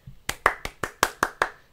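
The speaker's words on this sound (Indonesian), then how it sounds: "Tepuk tangan dulu," Hands clapping seven times in a quick, even rhythm, close and crisp with brief gaps between each sharp clap.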